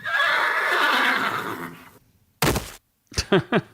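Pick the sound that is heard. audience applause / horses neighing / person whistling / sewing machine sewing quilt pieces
horses neighing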